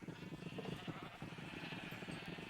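Several video-game sheep bleat continuously in quick tremulous bursts that overlap into a faint, steady chorus, with no voices.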